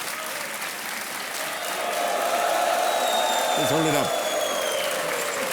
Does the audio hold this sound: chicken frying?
no